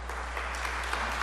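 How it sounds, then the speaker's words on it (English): A church congregation claps during a Sunday sermon: a brief, fairly soft patter of many hands over a low steady hum. "Clapping."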